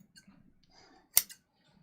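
A single crisp snip of scissors cutting fabric around the armhole of a skirt lining, close and clear, followed by a smaller second snip, with faint rustling of cloth before it.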